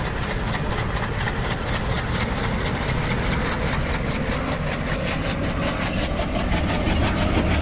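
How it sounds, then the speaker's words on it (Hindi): A Jan Shatabdi Express locomotive in Train Simulator 2022 chugs steadily under a constant engine rumble with rhythmic pulsing, loud and unbroken throughout. "देखो यार कितना गजब का चकिंग साउंड है गाइस, ऐसा लग रहा है नींद से जाग रही है हमारी लोकोमोटिव।"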